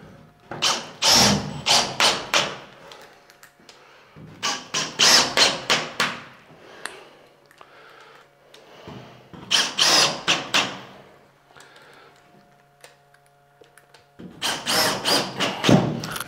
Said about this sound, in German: Akkuschrauber.